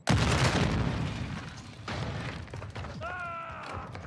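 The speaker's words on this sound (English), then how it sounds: "Throwing a stun grenade!" A stun grenade detonates in the Call of Duty: Modern Warfare II (2022) game with a loud opening boom and rumble, followed by a second thump and a ringing high tone, amid game effects.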